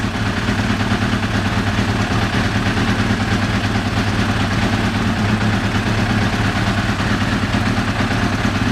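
A Yamaha YZF750R engine running after new valve clearances, cams, shafts and chain, idling steadily with a dense, even rumble, close and uninterrupted, without speech.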